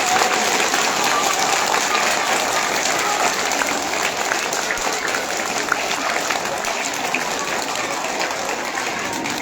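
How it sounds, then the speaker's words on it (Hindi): Dense, sustained applause from a school audience honouring students graded A and B fills the hall steadily and loudly from start to finish, with no pauses. "सबके लिए जोरदार तालियां बजा दो"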